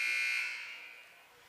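A loud electronic buzzer blares at a boys' high school basketball game in Alcoa, starting strong and fading over a second and a half, with no talking.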